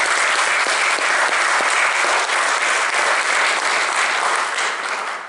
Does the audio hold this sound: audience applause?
yes